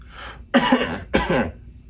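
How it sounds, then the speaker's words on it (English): Two sharp, loud coughs close by, each a harsh burst with a short gap between them, preceded by a breathy exhale. "Tom coughs. Tom coughs."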